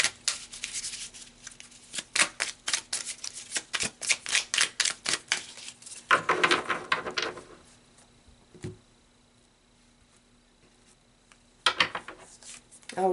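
Tarot cards shuffled and pulled, a dense run of quick riffling card clicks and slaps that pauses, then returns in a short burst, close and fairly quiet with no talking.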